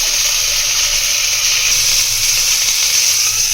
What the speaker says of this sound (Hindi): चिकन बोटी फ्राई करने के लिए पैन में थोड़ा घी ले लेंगे। एक एक करके इनको फ्राई कर लेंगे।